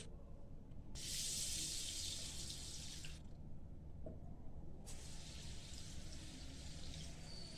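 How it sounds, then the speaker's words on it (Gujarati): Tap water runs into a vessel while rice and toor dal are rinsed for Kathiyawadi khichdi, a steady splashing rush that swells louder in bursts, with no voices. "હવે આ ખીચડીને આપણે એકાદ બે પાણીથી ધોઈ લેવાનું છે"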